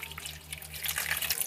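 Water pours steadily into a rubber cup holder boot in a Dodge Dart, a soft, close trickling splash over a low, steady hum, with no talking.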